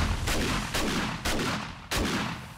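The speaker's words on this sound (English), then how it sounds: "I know I can defeat the tourists with this shotgun." Shotgun blasts in the 7 Days to Die zombie survival game (Darkness Falls mod), four loud close booms roughly half a second apart, each with a sharp onset and a decaying tail, no talking.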